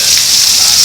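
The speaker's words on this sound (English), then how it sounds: "It's only been raining for about like 3 minutes." Heavy rain falls in a steady, dense hiss with no breaks, loud and close. It comes from a sudden storm that has already flooded a storm drain.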